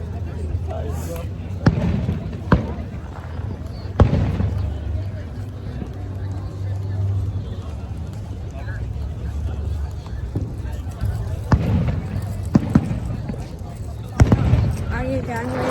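Fireworks going off at Union Beach, scattered sharp bangs and pops at intervals over outdoor crowd noise, with people talking nearby throughout.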